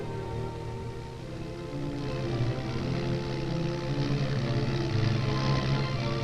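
An early Wright brothers military propeller airplane drones steadily, its engine and propeller buzz loud and continuous throughout, with no talking.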